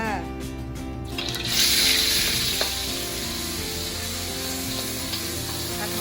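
A pork filling for sago dumplings sizzles and is stirred in a hot pan, a steady close frying hiss with a brief louder spray of sizzle, while someone talks over the cooking.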